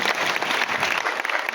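Steady, dense clapping fills an auditorium at a BJP political event at Siri Fort Auditorium, a continuous wash of applause from a large indoor audience with little talk over it.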